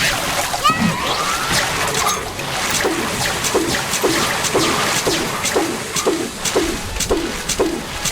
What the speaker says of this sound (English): I love the sound of those glass plates breaking.